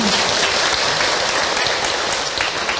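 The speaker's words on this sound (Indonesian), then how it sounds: "Tepuk tangan Bu untuk Kak Hilman." Audience applause for a speaker at an Islamic talk, a steady dense patter of clapping throughout, loud and close, with no speech over it.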